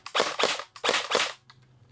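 An FSP 300 airsoft gun in a gun shop fires in sharp, loud cracks up close, four quick pops in two pairs followed by a faint click.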